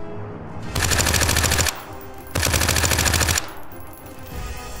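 Automatic gunfire in The Front survival shooter, two long sustained bursts of rapid loud shots, close and dominant, separated by a short gap, no voices.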